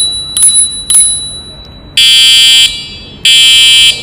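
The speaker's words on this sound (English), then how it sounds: "Now, you can see our H1 also have the bell and horn." An HX H1 14-inch electric bicycle gives two quick bell rings, then two loud, sustained electronic horn blasts, each lasting under a second, close by with no talking.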